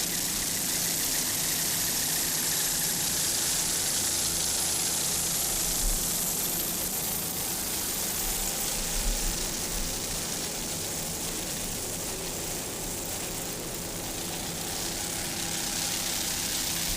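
Fountain 45-foot powerboat powered by twin 1,500 horsepower inboard engines, a steady broad engine roar with heavy hiss holding at constant loudness throughout, no voices.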